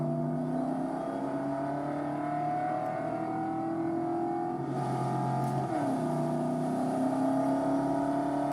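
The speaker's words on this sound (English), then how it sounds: "This actually does feel like driving a car." A car drives in the game Cyberpunk 2077, its mid-pitched engine humming steadily and rising and falling with throttle, shifting pitch partway through, with no talking.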